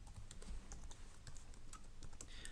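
Fingers tap out code on a computer keyboard in a quiet room, producing a steady, soft run of rapid key clicks close to the microphone.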